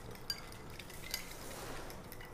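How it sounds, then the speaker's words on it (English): A spoon scrapes and clinks softly in a bowl as rice and quinoa salad is tossed with soy sauce and coconut sugar, a quiet stirring rustle with a couple of light metallic taps. "You want to mix it really well because the coconut sugar is hard to melt."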